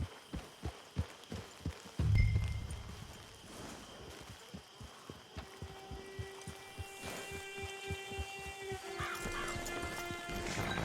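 Rhythmic horse hoofbeats clop steadily in the video game Red Dead Redemption Online, joined by a brief snort and a whinny, with faint ambient tones underneath; no talking.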